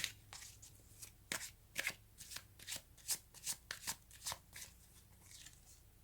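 Tarot cards are shuffled and riffled close up, with a run of crisp, irregular flicks and slaps that fade toward the end, and no voices.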